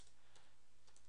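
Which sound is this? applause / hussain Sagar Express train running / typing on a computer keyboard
typing on a computer keyboard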